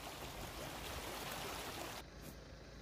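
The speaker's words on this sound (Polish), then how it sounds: "Taki strumień płynie drogą, ale to przez deszcz" Rainwater running as a stream along a dirt road after heavy rain, a steady, close rushing and gurgling of flowing water that continues without a break.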